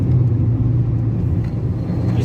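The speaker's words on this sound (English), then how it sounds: "Hold those revs, she's got an enthusiastic little roar to her." A Toyota Yaris T Sport engine held at steady revs, a loud, continuous low roar with a droning engine note that stays even throughout, close by and with no talk over it.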